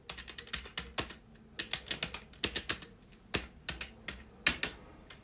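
Fingers type code on a computer keyboard, with quick irregular clusters of crisp, close key clicks and short pauses between bursts, no talking.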